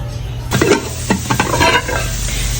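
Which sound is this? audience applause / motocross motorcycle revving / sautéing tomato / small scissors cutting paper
sautéing tomato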